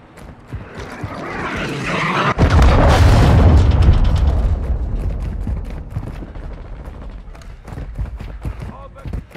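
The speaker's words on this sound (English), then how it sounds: "Hostile cruise missile incoming." Cruise missile strike in Call of Duty Modern Warfare II, a sharp crack followed by a loud rolling explosion with deep rumble that slowly fades, mechanical creaks and game sounds beneath.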